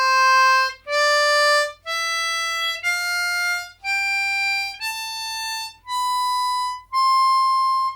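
A harmonica plays an ascending major scale of eight distinct notes, each held briefly with short gaps between, clear and close with no voice.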